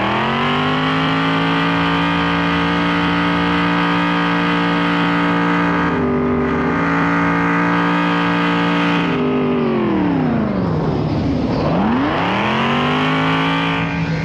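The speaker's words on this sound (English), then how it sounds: "it's a computer-generated duplication of an actual NASCAR engine." Computer-generated duplication of a NASCAR engine on an amusement ride, loud and continuous, its pitch holding high, briefly dipping, then sweeping down sharply and climbing back as if shifting through gears.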